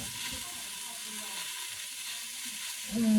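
Steady close frying hiss fills the clip, with white wine poured into the hot pan near the end and the sizzle swelling louder.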